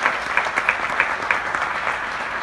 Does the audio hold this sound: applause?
yes